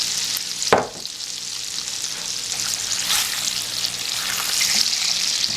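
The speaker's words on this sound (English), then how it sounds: "See how the garlic is getting nice and brown and crispy-ish?" Garlic fries in butter sauce in a pan for Korean honey butter fried chicken, giving a continuous close sizzle with a sharp utensil knock near the start and light stirring scrapes throughout.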